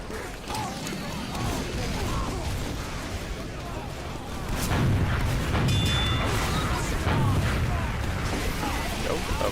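Gunfire is shot into a wall in Team Fortress 2, giving dense, booming, crackling shots and impacts that get louder partway through. A voice talks over the firing.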